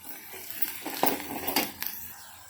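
A spoon stirs a green pea curry with turmeric in a pan, scraping and clinking against the metal in a few quick strokes over a soft sizzle.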